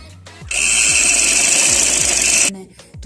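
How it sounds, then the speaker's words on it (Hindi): Sewing machine stitching fabric gathers for cuff sleeves, a loud close continuous whirring run of about two seconds, with quieter handling sounds before and after. "मोड़ने के बाद अब हम मशीन का बखिया फुल कर रखेंगे और अब चुनट्स डालने के लिए अब हम सिलाई लगाएंगे"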